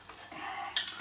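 A spoon stirs milk in a bowl, light scraping and swirling followed by one sharp clink against the bowl, quiet and close.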